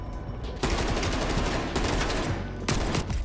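Sustained automatic gunfire from a weapon in the video game Call of Duty: Cold War, continuous rapid bursts that restart twice after short pauses, loud and close.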